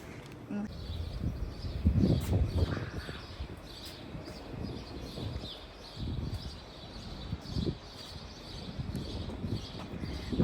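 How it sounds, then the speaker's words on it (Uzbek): Faint high chirps from birds repeat steadily in the distance over outdoor ambience, with occasional low murmuring and thumps nearby. "qushlar ovozlarini qaranglar"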